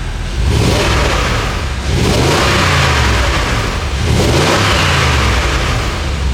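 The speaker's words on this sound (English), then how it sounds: "Lots of engine noises, little exhaust noises." A Porsche 958 Cayenne Turbo engine with its secondary catalytic converters deleted revs hard twice, loud and close, each rising roar settling briefly before climbing again.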